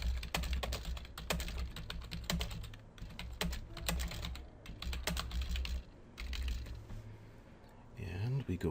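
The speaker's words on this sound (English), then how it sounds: "choose a spot and start typing" Typing on a computer keyboard while adding text comments in Adobe Acrobat Reader, a steady run of close key clicks, busy at first and thinning out toward the end, over a low background hum.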